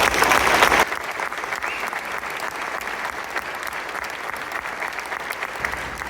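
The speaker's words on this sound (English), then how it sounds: "Please give a huge round of applause for these wonderful, wonderful seniors" A high school spring concert audience applauds the graduating seniors, a dense burst of clapping that is loudest in the first second, then settles into steady, slightly softer sustained applause filling the hall.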